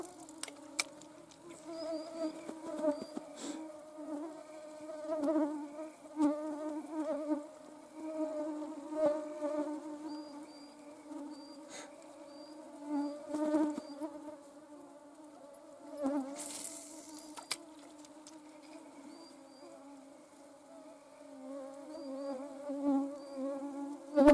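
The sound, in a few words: swarm of mosquitoes buzzing outdoors while fishing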